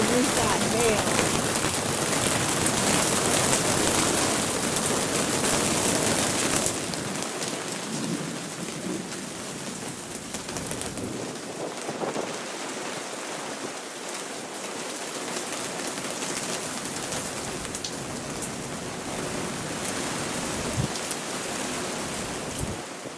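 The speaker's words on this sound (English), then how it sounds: "No wonder why it was getting cold with that hail." Hail and rain fall outside, a dense, steady hiss of drops striking surfaces that stays loud and unbroken throughout, heavier at first and easing slightly partway through.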